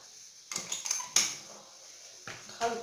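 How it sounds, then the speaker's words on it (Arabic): A utensil clinks and scrapes against a bowl while sugar and egg are mixed for small semolina harcha, several quiet, irregular taps in a hushed kitchen. "نخلطو السكر مع البيضة ديالنا مزيان"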